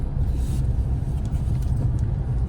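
Heavy road traffic on Nashik Road makes a steady low rumble of car and engine noise, fairly loud and continuous, with no voices over it.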